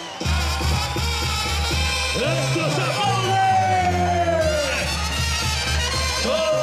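Rodeo crowd at a charreada-style event in Tuxpan, Jalisco, cheering and whooping over a band's brass fanfare, with an announcer's voice calling out loudly throughout.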